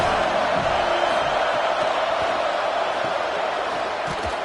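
Continuous stadium crowd roar from a college football video game simulation of San Jose State against USC, a steady, loud wash of massed voices and cheering with no pauses throughout.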